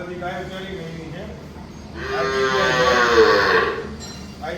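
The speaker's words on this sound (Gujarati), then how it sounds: "આ ગીર ગાય છે" Gir cows lowing on a farm, a single long, loud moo in the middle preceded by a softer lowing, with a voice speaking around the calls.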